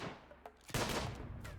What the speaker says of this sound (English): And that's already opening fire on them.